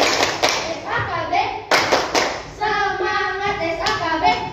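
Elementary school children clap out a rhythmic team cheer at a science competition final in Kupang, with sharp, loud claps in patterned bursts and chanted voices between them.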